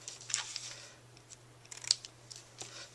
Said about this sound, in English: And then I'll trim the ends.